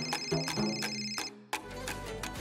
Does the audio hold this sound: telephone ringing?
yes